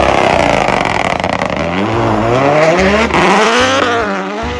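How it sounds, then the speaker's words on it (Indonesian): Race car sound effect, a loud, close engine roaring through rising revs and gear changes, its pitch climbing and dropping in repeated sweeps. "mobil balap."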